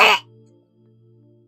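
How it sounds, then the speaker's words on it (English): A single short, harsh throat-clearing cough bringing up phlegm, loud and close, followed by near silence. "just coughed up a loogie for you guys."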